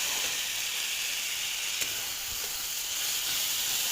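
Chilli, coriander, cumin and turmeric powders with salt fry over tomato in a pan while being stirred gently. A steady close sizzling hiss carries throughout with a few faint stirring scrapes, and no one speaks.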